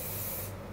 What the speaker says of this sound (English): put hairspray on.